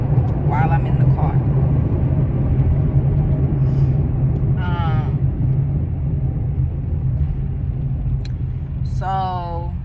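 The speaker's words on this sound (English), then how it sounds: "While I'm in the car." A low, steady engine and road rumble fills the inside of a car while someone sits in it. A voice speaks in brief bursts over the drone.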